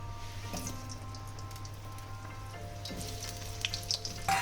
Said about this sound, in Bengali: এই আলুটাকে প্রথমে ভেজে তুলে নেব।